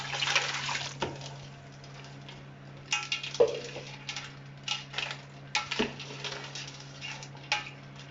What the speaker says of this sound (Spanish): Ahora rápidamente echaríamos el agua para que el pimentón no se nos queme.